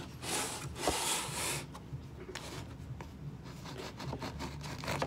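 A knife saws through a crusty honey wheat sourdough loaf, giving close, scratchy rasping strokes with a few louder crunchy bursts at the start, then softer rubbing cuts.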